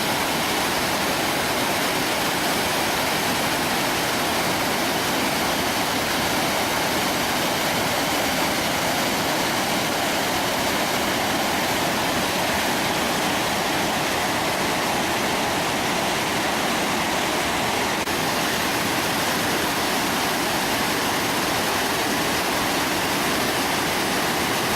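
Waterfall on the Rječina river, a loud, unbroken roar of rushing water that fills the whole stretch evenly without pauses or other sounds.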